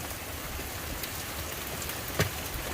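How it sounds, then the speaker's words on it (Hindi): Heavy rain pours down steadily outside a home at night, a dense continuous hiss with occasional sharper drops and one brief louder splash, close and alone. "आप ये देखें किस कदर शदीद बारिश हो रही है"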